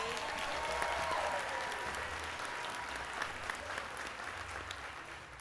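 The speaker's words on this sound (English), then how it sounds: "Round of applause for Ray." A crowd at a Solve For X 2022 event claps steadily for a performer named Ray, a dense, even wash of applause that holds for several seconds without talk.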